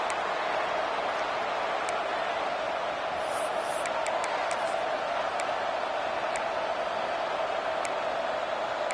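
Stadium crowd at a football game, a dense steady roar that fills the whole stretch with no breaks, with a few faint whistle-like squeaks above it, no distinct nearby voices.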